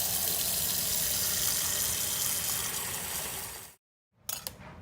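Syrup pours steadily into pint jars packed with Georgia peaches, a continuous liquid rush that stops abruptly near the end, followed by a few light clinks of glass.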